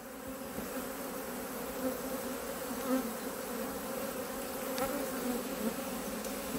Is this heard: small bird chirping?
no